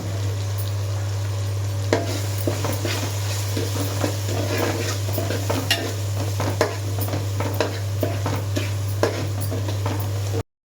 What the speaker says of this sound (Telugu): కరివేపాకు వేసుకొని కొంచెం వేగే వరకు ఉంచుకొని కారం వేసుకోండి.